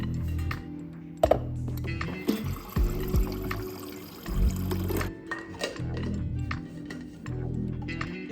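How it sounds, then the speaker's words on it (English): A water bottle is refilled from a tap, water running and gurgling into it in bursts, with clunks as the bottle is handled and the flow rising and stopping. "let me refill my water bottle"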